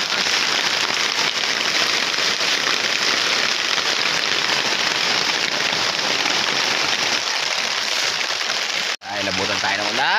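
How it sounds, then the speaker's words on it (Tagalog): Heavy, steady rain pours down for the whole stretch, a dense close hiss that breaks off abruptly near the end before a brief voice. "Malakas ang ulan doon mga idol."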